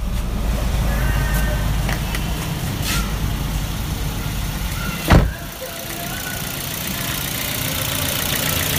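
A car engine, just started after its PCV valve was cleaned, runs at a steady idle with a low, even rumble, broken by one brief thump midway before settling again.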